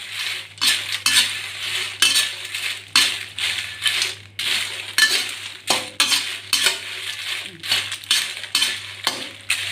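Roasted chili being stirred and scraped in a pan, with repeated rhythmic scraping strokes of a utensil against the metal, close and fairly loud, no talking.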